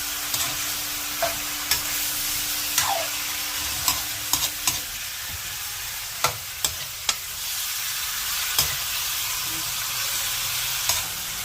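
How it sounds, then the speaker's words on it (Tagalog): Ilocano chicken tinola being sautéed in oil: a steady close sizzle and frying hiss throughout, broken by scattered sharp clicks and scrapes as the pot is stirred, with no talking. "Gigisa lang natin."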